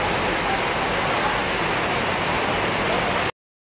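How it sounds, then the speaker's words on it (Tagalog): Heavy typhoon rain pours down near Litex, Montalban, a loud, dense, unbroken hiss of falling water that cuts off abruptly near the end. "tingin naman yung tunog ng alakas ng ulan."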